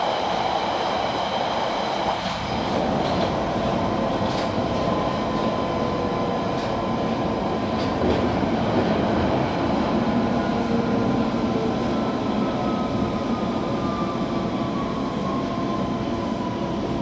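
A London Underground Central line train rumbles along continuously and loudly, with a steady roar, faint wheel squeals and metallic tones throughout.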